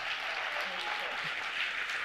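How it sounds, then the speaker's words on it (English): A church congregation applauds its senior pastor, an even, fairly faint wash of clapping that holds level throughout. "So let's give a round of applause to our senior pastor"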